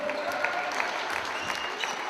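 Spectators at a youth basketball camp applaud together, a moderately faint but steady run of rhythmic clapping with a murmur of voices underneath.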